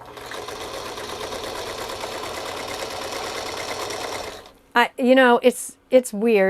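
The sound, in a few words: sewing machine sewing a project bag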